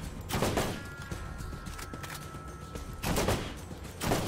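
Borderlands gunfire in a co-op fight comes as faint, intermittent bursts of shots, clustered near the start and again toward the end, with quieter stretches between.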